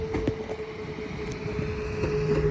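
Class 197 unit 197 042 passes Crewe on a test run, giving a close, continuous rolling rumble with a steady whining tone and rhythmic wheel clatter, with no voices.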